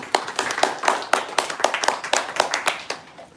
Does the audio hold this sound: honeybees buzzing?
no